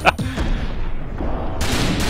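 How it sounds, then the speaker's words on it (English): Gunfire in the zombie shooter game Typing of the Dead: Overkill, a loud sustained blast with a booming low rumble, followed by a sharp burst near the end. "Shoot him right there, man."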